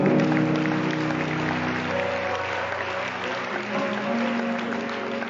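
Church congregation applauding during a worship service: a sustained wash of clapping that fills the whole stretch, layered over steady held musical tones.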